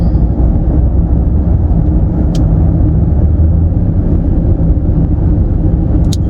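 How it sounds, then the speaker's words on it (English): Steady Atlanta road traffic heard from inside a car on a road trip, a constant loud low engine and tire rumble with no talking. "That's traffic."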